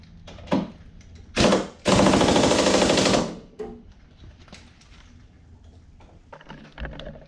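Top bolt on the front suspension of a 2008 Saab 9-3 TurboX being tightened by a power tool: a couple of short bursts, then a loud rattling hammer lasting about a second and a half, with quiet garage ambience after.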